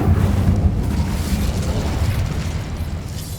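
An Incendio fire spell blast in Hogwarts Legacy erupts as a loud, roaring burst of flame that fills the whole moment without letup, with no voices over it.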